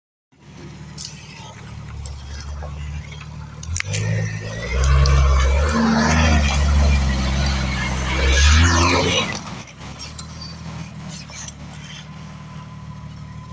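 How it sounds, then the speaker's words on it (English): Jeep Wrangler YJ tire burnout, a loud roaring engine and squealing tires swelling for several seconds, with a rumbling idle before and after and voices in the background. "Burnout."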